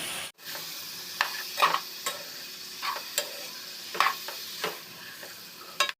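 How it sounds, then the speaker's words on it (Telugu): Washed cauliflower pieces going into a pot of salted boiling water, with a steady bubbling hiss and a series of splashy clinks and scrapes of spoon and vegetables against the pot, close and moderately quiet, without speech. "సాల్ట్ వేసి కడుక్కున్న క్యాలీఫ్లవర్ అండి వేసేస్తున్నాను"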